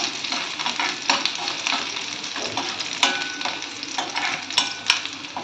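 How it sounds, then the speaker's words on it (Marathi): Finely chopped garlic sautés in hot oil for veg hakka noodles, a steady close crackling sizzle with light clicks of stirring and no talk. "लसूण तेलामध्ये छान परतून घ्यायचं आपल्याला"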